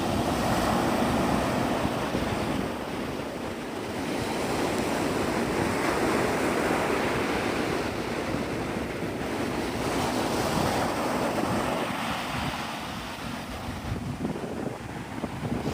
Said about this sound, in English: You could just listen to the waves.